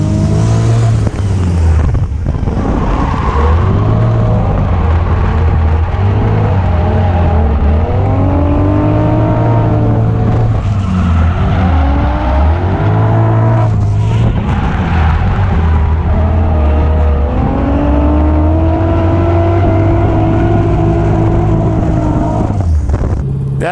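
An LS V8-swapped Mazda Miata revs hard and accelerates. The engine note is loud and close, climbing repeatedly through the rev range with brief dips between pulls.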